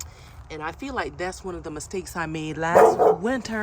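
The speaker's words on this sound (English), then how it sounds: "That's the neighbor's dog." A neighbor's dog barks in a few short bursts in the background of a backyard during pre-spring yard cleanup, partly under a person talking nearby.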